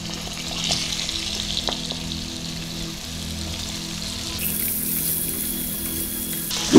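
Pumpkin pieces go into potatoes frying in hot oil on a high gas flame, giving a steady loud crackling sizzle that grows brighter partway through, close and without talking.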